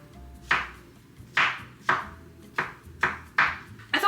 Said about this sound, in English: I always like to chop up some mushrooms into any like stew I make. I like to chop them up really small.